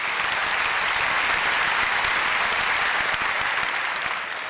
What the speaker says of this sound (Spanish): Dale un buen aplauso al Señor.